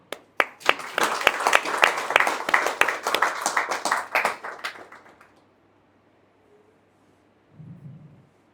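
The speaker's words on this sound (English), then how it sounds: "This requires claps." Audience clapping at a japa retreat talk, a burst of sharp rhythmic claps for about five seconds that fades into near silence, followed by a faint low rumble at the end.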